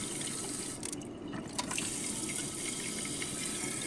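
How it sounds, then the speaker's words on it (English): Water runs steadily from a rubber pipe into a toilet tank during a flush valve repair, a continuous close rushing with a few faint drips. "The more water that goes into this black pipe to the right, the less water fills up your tank."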